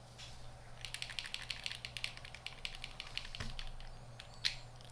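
Rapid clicky keystrokes on a plateless-modded KBD67 Lite mechanical keyboard, a quick steady patter of taps up close with a faint low hum beneath.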